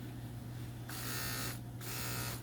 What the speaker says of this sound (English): I'm gonna make sure he's okay with my shaver today